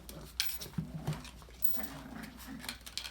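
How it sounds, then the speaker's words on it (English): Doodle puppies play together, giving soft growls, small yips and whimpers in short irregular bursts, fairly close against a quiet room background. "See how they love to play with each other, growl,"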